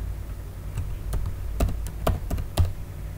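A file name typed on a computer keyboard at a workstation, a short burst of distinct, close key clicks that starts sparse and quickens toward the end, with no talking.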